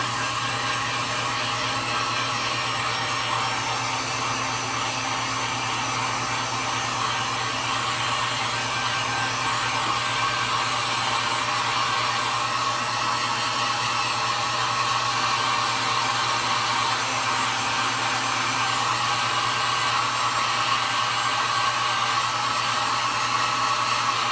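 A hair dryer blows steadily, drying acrylic paint on a wooden beach-van sign, a continuous loud whooshing drone that runs unbroken with no talking.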